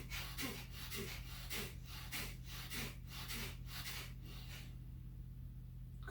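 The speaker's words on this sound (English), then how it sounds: "Starting the last round, inhale." Rapid rhythmic breaths during a breathing exercise round, about a dozen short forceful puffs through the nose in steady succession, close and distinct, ending in a quiet pause.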